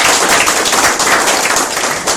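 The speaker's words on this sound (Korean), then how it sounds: "박수 한번 부탁드리겠습니다" An audience at a startup networking forum applauds in a dense, even wash of clapping that stays loud and steady without pause.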